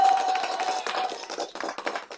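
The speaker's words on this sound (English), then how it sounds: "Everybody gets an applause." A crowd's hand-clapping applause, a dense flurry of overlapping claps that keeps going for about two seconds before thinning out toward the end.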